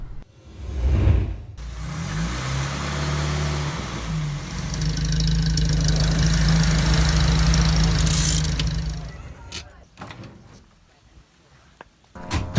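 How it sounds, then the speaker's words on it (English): A loud old car engine starts up and settles into a rough, rumbling idle close by, with a brief rev partway through, before cutting off amid door and handling clunks. "Hey, that car of yours is awfully loud."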